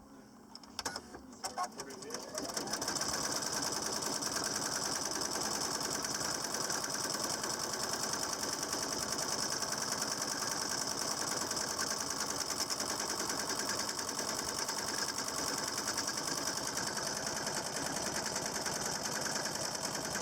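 A standard sewing machine converted for leatherwork stitches through leather with a steady, loud, fast mechanical whir that runs continuously for most of the clip after a few brief starting clicks.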